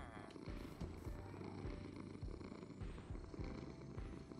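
Minecraft cat purring, a soft low rumbling pulse repeating at an even rhythm, quiet and close, with faint game sound effects mixed in around it.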